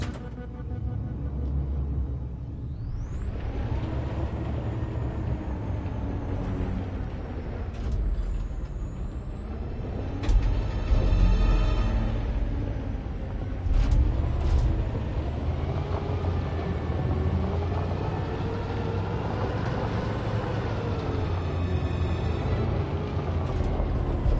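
A video game truck engine: a deep, steady drone with low rumble, rising and falling in pitch as it accelerates, with a high whine overhead; continuous and fairly loud throughout.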